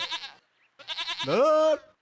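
A goat bleats nearby in wavering bursts, ending in one longer, drawn-out cry, with short quiet gaps between calls.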